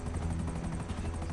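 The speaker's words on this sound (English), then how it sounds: "I'm just gonna take the helicopter back." A helicopter in GTA Online gives a short, steady, rhythmic rotor thump and engine drone, moderately loud and alone, with no talking.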